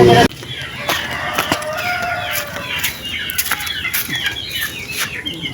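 Chicks and fowl in a poultry yard give quick, overlapping cheeps and clucks close by, with a loud thump at the start and wings flapping now and then.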